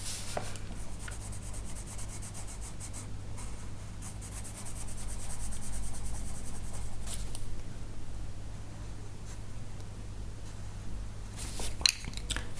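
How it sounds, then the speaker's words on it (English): A light gray colored pencil shades and blends on paper in an adult coloring book, a soft, close, continuous scratchy rubbing with short strokes, over a faint low electrical hum. "Bringing back in the light gray pencil, blending things together."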